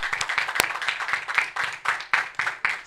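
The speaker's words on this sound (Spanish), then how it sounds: "Vamos a dar un aplauso al año" A church congregation applauds at a New Year's Day Mass, a steady burst of many hands clapping with close individual claps standing out, moderately loud and continuous throughout.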